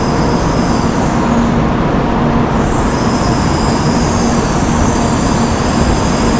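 Shinkansen bullet train at the Shin Osaka station platform, heard as a steady, loud broadband rumble and hiss of the train with platform ambience, continuous throughout without speech.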